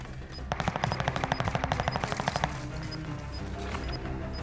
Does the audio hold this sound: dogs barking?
no